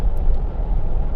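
Steady low road rumble from a car driving, a broadband drone filling the background with no voices.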